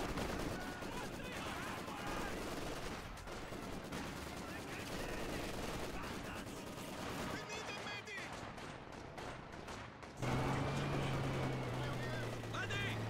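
Machine gun fire rattles in rapid, dense bursts during a Company of Heroes 2 battle on the Road to Arnhem map, with steady gunfire, distant explosions and a vehicle engine rumbling in near the end.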